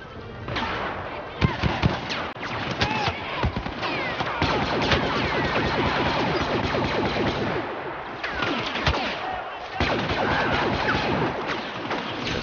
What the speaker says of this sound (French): Si je leur faisais un petit tir de barrage